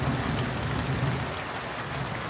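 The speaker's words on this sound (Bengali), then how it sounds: "ফাইনালি অনেক প্রতীক্ষিত বৃষ্টি" Long-awaited rain falling steadily over a village farm, a continuous broadband hiss of drops with a faint low rumble underneath, no voices.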